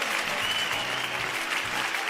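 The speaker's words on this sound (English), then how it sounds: "Please give him another round of applause" A steady, dense wash of audience applause fills a fintech conference hall in Nigeria, many hands clapping continuously at a moderate level with no break.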